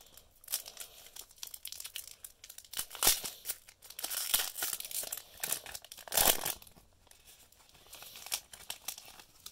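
A Pokémon Rebel Clash booster pack wrapper is torn open by hand, with soft crinkling foil and several sharper tearing bursts, close and fairly quiet.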